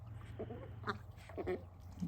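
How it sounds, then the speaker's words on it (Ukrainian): A few short, honking calls from a four-month-old goose come in quick bursts over a low steady hum, fairly faint and close. "Чуєте, голос як гусака."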